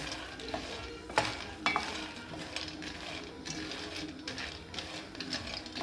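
Flour toasting for sfouf being stirred in a pan, soft continuous scraping with a couple of sharper spoon knocks, close and fairly quiet.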